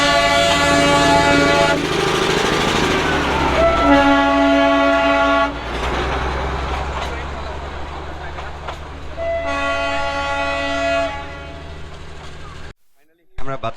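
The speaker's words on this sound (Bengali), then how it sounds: "টয় ট্রেনের জয় রাইড চলছে, আপনাদেরকে একটু দেখাই।" The Darjeeling toy train on its joy ride at Batasia Loop sounds repeated long horn blasts over a low rumble of running wagons, with people talking nearby, before cutting off near the end.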